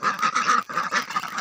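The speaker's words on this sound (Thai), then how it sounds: "มันจะเป็ดเนาะ" A duck gives a quick run of loud, close, nasal quacks, broken by a brief pause partway through before the calls resume.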